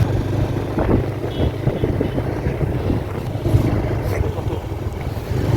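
Two motorbikes ride through a quiet village at night, with a continuous close engine rumble and wind buffeting the microphone throughout.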